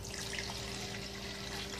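Filtered water poured from a measuring cup into a household container while mixing a homemade scented cleaner, a steady close splashing trickle running without pause throughout.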